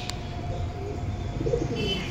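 Pigeons in a loft coo softly in low, rolling murmurs, close by over a steady background hum, with a faint chirp mixed in.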